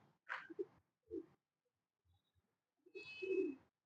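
Pigeons give low soft coos in short bursts separated by quiet pauses, close and fairly faint, with a brief higher tone near the end.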